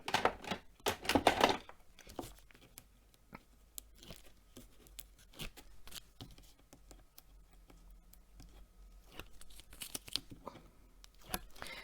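Paper is torn by hand for a handmade Christmas card, giving a few loud ripping bursts near the start and then quieter crinkling and handling sounds.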